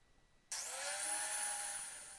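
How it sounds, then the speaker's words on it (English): Wire wheel spinning against a rusty hewing hatchet head, a steady loud abrasive whir with high-pitched scraping that starts abruptly after a brief quiet moment and holds continuously. "So clean up with a wire wheel"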